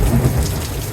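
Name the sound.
thunder during a thunderstorm with rain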